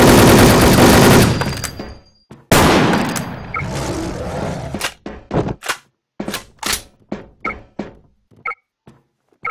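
Bursts of video game gunfire during a team shootout, starting with dense continuous automatic fire, then a heavy blast, then a string of separate sharp shots and short bursts spaced apart.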